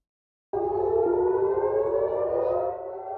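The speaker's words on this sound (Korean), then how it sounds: "이스라엘 최대 항구 하이파에 공습 사이렌이 울려 퍼지고" An air raid siren in Haifa, Israel, starts abruptly during Iranian missile strikes and holds a steady wailing tone, loud and sustained for several seconds.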